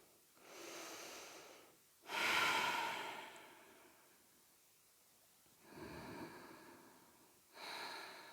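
Slow, deep breaths during a beginner prenatal yoga session in the second trimester, four long inhale-exhale swells spaced a couple of seconds apart, close and soft, with no talking.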